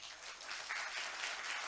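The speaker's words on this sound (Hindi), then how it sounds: "आपकी तालियां मुझे आदेशित कर दें एक बार" An audience at a Hindi poetry recital held at Royal Global University bursts into clapping for the poet. The brief applause is steady and full, building slightly as it goes.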